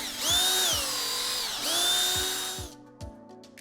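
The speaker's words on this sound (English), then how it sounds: "We're gonna use the drill as a lathe." A power drill spins a wooden piece used as a makeshift lathe while sandpaper is held against it, giving two loud whining bursts that rise and fall in pitch, with knocks between them and a quiet pause at the end.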